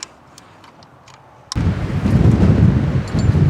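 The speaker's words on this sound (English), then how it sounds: "Oh, the wind is really picking up now." After a quiet stretch with faint ticks, a loud, sustained broadband roar of wind buffeting nearby suddenly rushes in and keeps surging.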